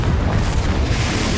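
A Confringo spell blast in the Hogwarts video game: a dense, loud, close rumbling boom that sustains without a break for over a second, low and heavy with no voices.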